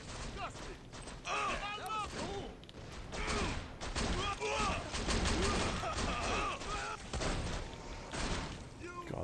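Pistol fire in Borderlands 2 played on PS Vita, repeated sharp shots through a busy battle mix with constant gameplay noise, with a voice talking over much of it.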